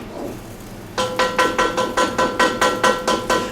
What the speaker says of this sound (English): now stir that around a bit, cook them meatballs up